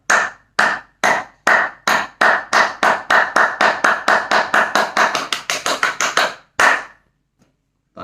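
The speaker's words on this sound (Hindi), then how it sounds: "ताली बजाएंगे।" Hands clap in a steady run of about twenty sharp, loud claps during a yoga exercise routine, speeding up slightly before a pause and one final clap, with no talking.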